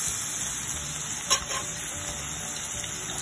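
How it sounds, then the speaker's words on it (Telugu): Grated ginger and garlic sizzle in hot oil in a pan, a steady close frying hiss throughout with one brief louder crackle and stir partway through. "నూనె కూడా చాలా వేడెక్కిన తర్వాత మనం గ్రేట్ చేసుకున్న అల్లము, వెల్లుల్లి ఉన్నాయి కదా, ఇది వేసేయాలి."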